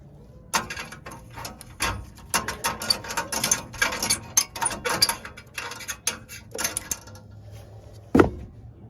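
A nut driver works on the igniter and flame sensor of a Trane furnace in an attic, producing a run of close metallic clicks and ratcheting taps with one sharp knock near the end, and no voices.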